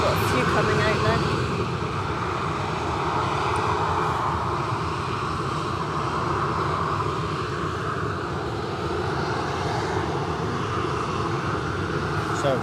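An airliner rolls down the runway at Edinburgh Airport, its engines a loud, steady roar filling the air without letup, with someone talking over it.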